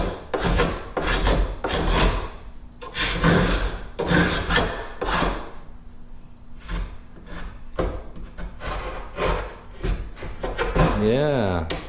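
Old glue is scraped and peeled off wooden stair stringers in repeated rough, rasping strokes, close and loud, with short pauses between passes and a brief tearing squeal near the end.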